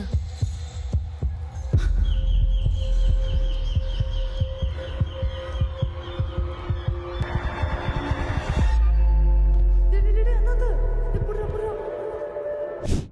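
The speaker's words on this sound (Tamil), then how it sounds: "96 படத்துல ஜானு வந்து ராம் கிட்ட வந்து அவன் நெஞ்சில கை வச்ச உடனே ஹார்ட் பீட் ஸ்லோ ஆகி" Heartbeat sound effect from the Tamil movie 96, a steady throbbing pulse with low booming beats under a sustained hum and music-like tones, slowing and giving way to a deep rumble near the end.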